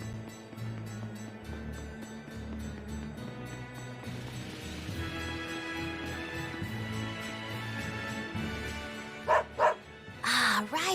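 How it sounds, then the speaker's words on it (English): A dog barks a few times in the video game Tales of Berseria, short sharp yaps near the end that rise above steady game music and ambient tones. "Magilou, you know how to speak dog?"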